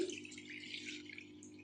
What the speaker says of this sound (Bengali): আমি একটা পাত্রে কিছুটা জল নিয়ে নিচ্ছি